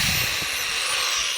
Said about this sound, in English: no problem starting up a drill